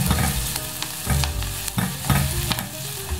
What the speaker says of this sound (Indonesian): kita masukkan satu siung bawang putih kita tumis tadi sampai kecoklatan